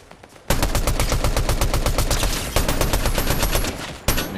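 Rapid automatic gunfire from a gun in the Fortnite video game, a loud, steady stream of shots starting after a brief lull, with a short break midway and another near the end.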